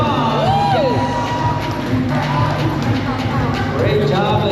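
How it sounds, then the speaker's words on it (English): Crowd cheering and whoops for a contestant at a Harley-Davidson bikini contest in Palm Beach, a steady dense roar of voices with rising shouts, close and loud throughout. "That's contestant number 13, Cassidy. A round of applause."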